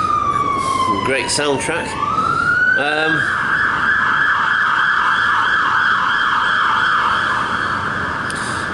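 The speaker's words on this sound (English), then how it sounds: "at the moment we have an ambulance, a fire thing, or police going past" An ambulance, fire engine or police siren wails loudly as the emergency vehicle passes a pub, rising and steadily warbling throughout, with a brief remark spoken over it near the start.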